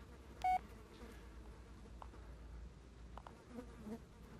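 Flies in a house in the woods in the video game Blair Witch, a constant close insect buzz that drones faintly throughout, with a short sharp beep near the start.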